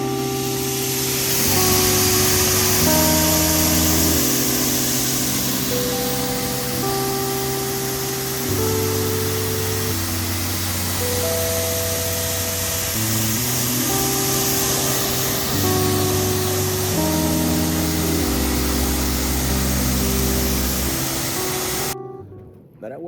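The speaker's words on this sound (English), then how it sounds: "So let's get the pressure washer built up." A pressure washer blasts the front passenger wheel of a 2019 Chevrolet Silverado truck, a loud, steady hiss that runs nonstop for over twenty seconds under background music and then cuts off abruptly.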